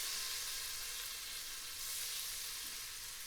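Butter melts in a pan with a steady, faint, hissing sizzle that stays even throughout, with no voices.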